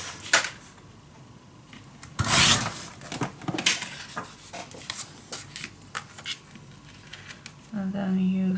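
Background paper for a handmade baby mini album being cut lengthwise, close scraping and rasping strokes in irregular bursts with one louder sweep, then faint speech near the end.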